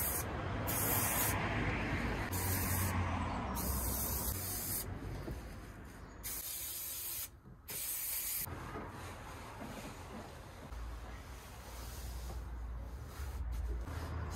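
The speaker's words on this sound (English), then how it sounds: "it's just a case of spraying it down half and half" Spray adhesive hisses from a can in long steady bursts with short pauses, close and loud, while vinyl flooring is glued inside a VW T4 camper van.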